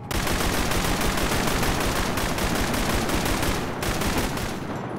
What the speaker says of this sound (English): Why do I hear a rocket launcher?